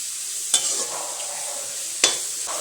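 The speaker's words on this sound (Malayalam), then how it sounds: "ചെറിയുള്ളിയാണെങ്കിൽ നല്ലപോലെ ഒന്ന് മൂപ്പിച്ചെടുക്കണം കേട്ടോ." Shallots fry in hot oil and get stirred for a Kerala-style duck curry: a steady close sizzle, broken by two sharp scraping stirs, with no talking.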